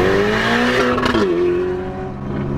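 A Ferrari Portofino revs hard and drops through a downshift as it passes close by, its engine note rising, then stepping down with a brief burst near the middle before settling into a steady loud drone.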